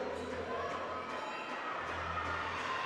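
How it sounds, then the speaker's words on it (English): A crowd at a collegiate powerlifting nationals competition cheers for a woman's squat on the platform, a steady moderately distant roar of voices and shouts. "The crowd is going crazy for her."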